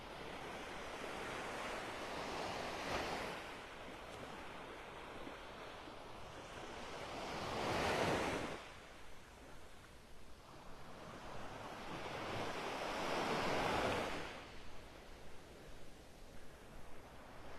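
Ocean waves roll onto a beach in North Naples, Florida in the early morning, soft broad surges swelling and receding about every five or six seconds under light wind noise, with no voices.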